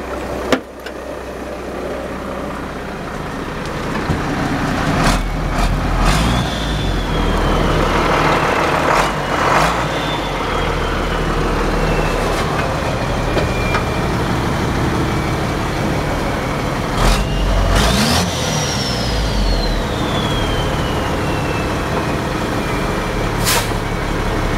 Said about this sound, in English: The motor runs pretty good.